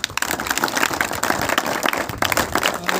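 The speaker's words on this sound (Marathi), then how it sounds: "सर्वांच्या एकदा जोरदार टाळ्या होऊन जातात" Audience applause at a birthday celebration event, a dense wash of many hands clapping steadily and fairly loud throughout, with no speech over it.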